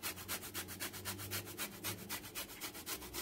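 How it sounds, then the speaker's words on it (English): Steady back-and-forth strokes of orange zest being grated for a cake, a quick rhythmic scraping that repeats about five times a second, close and fairly loud, with no talking. "You see what I'm grating? The orange zest"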